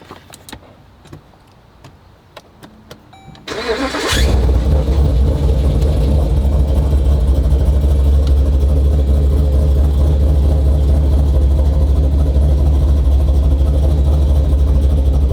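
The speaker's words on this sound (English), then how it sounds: "I just want to see if I can get it idling so it's not gonna die on the drive" A Jeep Grand Cherokee, just fitted with a replacement 545RFE transmission, cranks and fires after a few quiet seconds of clicks and rustling. Its engine then settles into a loud, steady, close idle that runs to the end.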